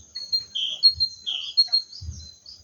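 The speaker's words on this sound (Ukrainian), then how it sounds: "Пташки співають." Small birds chirp and whistle outdoors in short bright phrases, fairly close and clear, over quiet low thumps in the background.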